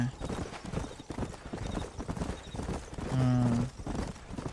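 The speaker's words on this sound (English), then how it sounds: "These are fine horses." Horse hooves clip-clopping in the western video game Red Dead Redemption, a steady fast rhythm of hoofbeats under continuous talk, with a brief louder tonal burst near the end.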